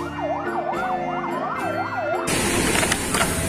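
A toy fire truck's wailing siren sweeps up and down repeatedly, then gives way to a loud burst of hissing noise.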